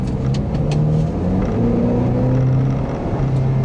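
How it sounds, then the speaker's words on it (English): A 2014 Ford Escape Titanium engine, paired with a 6-speed automatic, hums and revs steadily, its pitch climbing and settling in a loud, continuous drone heard from nearby. "It's a very nice revving engine."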